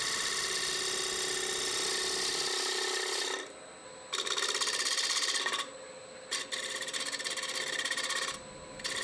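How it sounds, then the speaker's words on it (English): A turning tool makes shear scraping cuts on a square wooden platter spinning on a lathe, giving a loud, continuous raspy scrape that breaks off briefly several times and resumes, with no talk. "Now there's a shear scraping cut."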